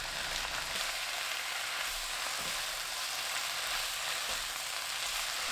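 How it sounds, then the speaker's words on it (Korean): Mustard greens stir-fried over high heat: a loud, constant sizzle close up, with faint stirring knocks and no talking. "1분 볶아주세요"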